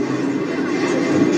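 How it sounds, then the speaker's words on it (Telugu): A train shaking and rattling during an earthquake, a steady loud broadband rumble and clatter running throughout without pause. "భూకంపం దాటికి ట్రైన్ ఇట్లా"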